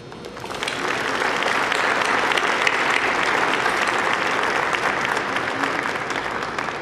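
Graduates applauding their parents at a 2010 commencement ceremony in a stadium, a large crowd's clapping swelling within the first second and then holding as a broad, steady roar.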